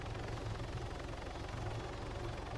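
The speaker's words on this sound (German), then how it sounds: "Hört ihr ein Heli?" A helicopter in the military video game Arma 3 gives a steady, continuous rotor and engine drone with a low rumbling throb. It holds at an even level throughout, with no talking.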